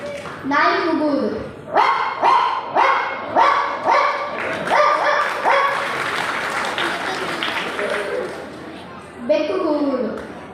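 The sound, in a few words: person imitating a dog barking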